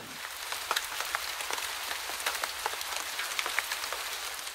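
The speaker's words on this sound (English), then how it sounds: "The rain was so heavy you couldn't actually physically see your hand if you put it into the rain." Heavy rain pouring steadily onto surfaces, a dense, even hiss scattered with sharper individual drop splashes, close and continuous throughout with no voices.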